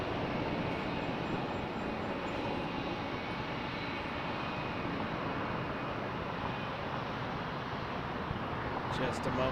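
A Lufthansa Boeing 747 departs Toronto Pearson bound for Frankfurt, its jet engines a loud, steady broadband roar that holds throughout, with a faint voice beneath.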